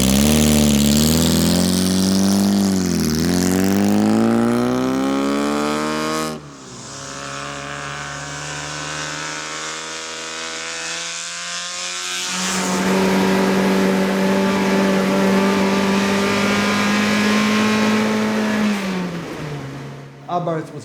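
A Fiat-Abarth Zagato's engine revs hard through its tuned scavenger exhaust, close and loud, the rasping note swooping up and down, dropping to a burbling idle, then climbing into a long, sustained high rev.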